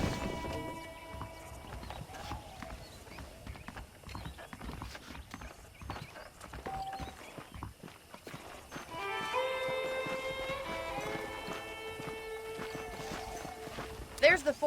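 Horse hooves clip-clop at a steady walk in the Red Dead Redemption western game, soft and close, under near-constant talk, with music and brighter effects joining toward the end.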